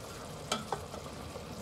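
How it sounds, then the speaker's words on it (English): Mushrooms sauteing in a wok give off a faint, steady sizzle, with two brief stirring clinks near the start of a quiet stretch without talk. "I still need to saute my mushrooms."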